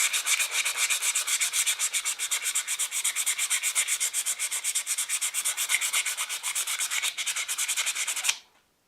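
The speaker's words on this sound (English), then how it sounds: "Got some really heavy grit sandpaper here." Heavy-grit sandpaper scuffs a knife tang in a continuous run of rapid rasping back-and-forth strokes, close and loud, for about eight seconds before stopping abruptly.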